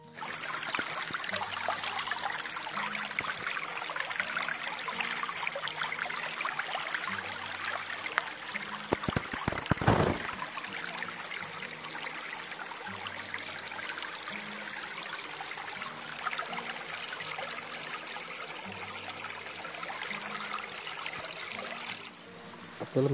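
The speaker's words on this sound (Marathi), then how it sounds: "आता पहा आमची ही नदी." A small village river in the Konkan countryside flows steadily with a continuous trickling, babbling wash of water, close and fairly even, joined by a brief burst of louder splashing partway through.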